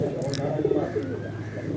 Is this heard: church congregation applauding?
no